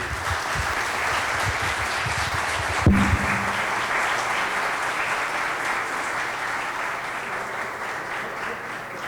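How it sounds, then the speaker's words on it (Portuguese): An audience at a naval lecture on sea power applauds the admiral, dense steady clapping at a fairly loud level throughout with a brief low thump early on. "Uma salva de palmas para o Almirante"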